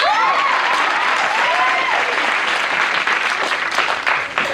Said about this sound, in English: They were clapping for us.